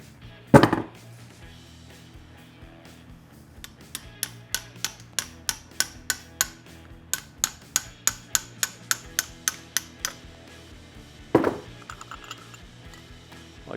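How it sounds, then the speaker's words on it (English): Piston pin being driven out of a Triumph 650 motorcycle piston with a punch and hammer: two heavy opening blows, then a run of about twenty steady, evenly spaced metallic taps, and a final solid strike, close-up with no talking. "If it acts like it doesn't want to come out, I do have a punch I use for this."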